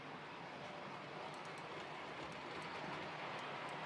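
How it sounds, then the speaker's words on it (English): Model trains run on a layout track, giving a faint, steady rolling rumble with light rhythmic clicks and no talking. "Let's get these trains again."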